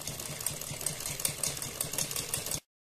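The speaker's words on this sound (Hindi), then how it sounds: "इस गले के किनारे किनारे पर चारों तरफ सिलाई लगाते चले जाएंगे" A sewing machine stitches along the edge of a fabric neckline, a fast, even mechanical chatter heard close and quiet for a few seconds before it stops abruptly, with no voices.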